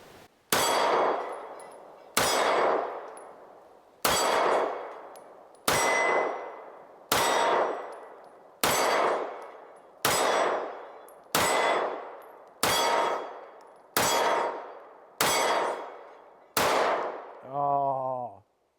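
Eleven evenly spaced pistol shots from a Kimber CDS9 Classic 9mm, each a sharp crack followed by a ringing metallic clang off a steel target that decays before the next, with a final shorter ring at the end.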